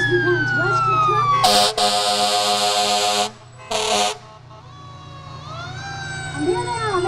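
A rescue truck rolls past in a St. Patrick's Day parade, its wailing siren sweeping under loud bursts of air horn, two long blasts close by before the siren winds back up.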